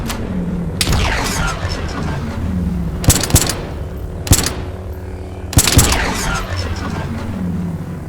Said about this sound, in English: Yeah, I'm gonna shoot.